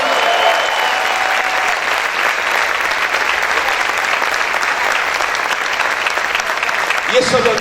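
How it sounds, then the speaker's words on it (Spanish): Congregation at a church service applauding loudly, a thick continuous roar of clapping that holds steady for several seconds, with faint voices mixed in and a brief tonal sound near the end. "Vamos a aplaudir fuerte al Rey."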